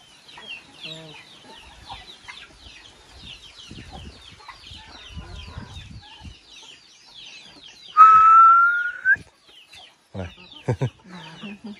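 Rooster and hens at a countryside farm, clucking and calling in bursts, with a loud drawn-out call midway and people talking softly nearby.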